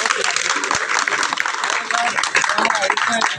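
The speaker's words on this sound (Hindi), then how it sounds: "चाहता हूँ कि आप एक बार उनकी तालियां बजा करके उनका" A crowd at a political rally applauds, a loud, dense wash of clapping that continues throughout with voices mixed in.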